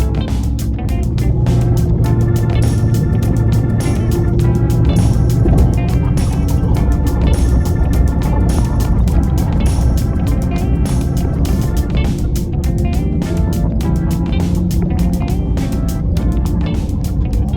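Bus driving along the Ambarawa route, heard from inside as a loud, continuous engine drone and road rumble with no breaks.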